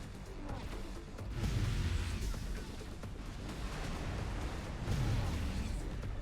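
Continuous rumbling blast and crackle from an explosion in a video game, dense and loud throughout with a couple of heavier swells.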